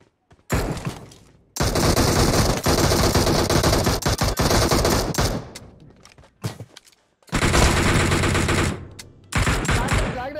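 Loud automatic weapon fire in the mobile battle royale shooter PUBG Mobile, long sustained bursts broken by short pauses, close and dominant with a voice faintly underneath.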